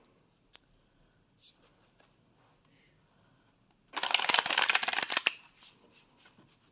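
A few scattered taps and flicks of tarot cards, then a rapid, close riffle of the tarot deck being shuffled for about a second, followed by light handling sounds.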